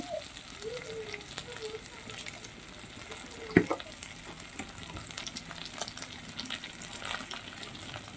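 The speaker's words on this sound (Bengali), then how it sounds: "দিয়ে ভালো করে এগুলোকে ভাজতে হবে" Torn green chillies, one of them ripe, crackle and sizzle in hot oil in a pan while a chilli fish is cooked, with a steady close frying hiss, one sharp clink, and a faint voice early on.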